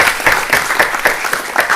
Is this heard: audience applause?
yes